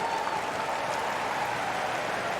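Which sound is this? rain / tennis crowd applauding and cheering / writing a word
tennis crowd applauding and cheering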